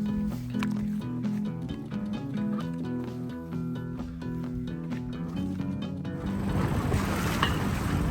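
A small boat with its engine running cruises slowly through light chop near a remote island in Sitka, with a steady motor drone and water slapping the hull, and wind and spray rising toward the end.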